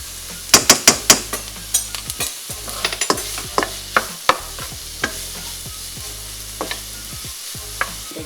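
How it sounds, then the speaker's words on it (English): Garlic and onion frying in a pan, with steady sizzling broken by a run of sharp clacks and scrapes from a utensil stirring, loud and close, with no talking. "Now we're going to fry garlic and onion in this pan."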